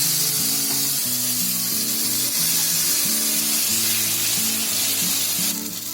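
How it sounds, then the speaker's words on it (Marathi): Dosa batter sizzling on a hot oiled pan over low flame, a continuous bright hiss with soft spreading and scraping strokes repeating underneath. "आपला पॅन तापला ना, तेल लावला की गॅस बारीक करायचा जरा आणि त्याच्यामध्ये आपलं डोश्याचं बॅटर टाकायचं"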